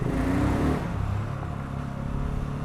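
A BSA Goldstar 650 motorcycle rides on a road, its engine droning steadily with a low rumble and broad wind and road noise, close and fairly loud, no talking.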